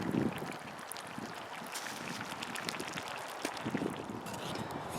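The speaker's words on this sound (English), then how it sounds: "it's quite windy out today" Gusty wind buffets the outdoors, a broad rushing noise with low rumbling bursts as it hits the microphone.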